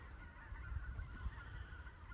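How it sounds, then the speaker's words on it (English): Geese honking out near a big pasture, a steady low jumble of calls with broadband outdoor noise and faint wind, no voices over it. "I hear geese."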